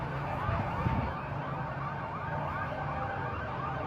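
A fire truck's wailing siren rises and falls steadily at a middle distance beneath a constant street rumble during a building fire, with the truck blocked by a crowd of onlookers.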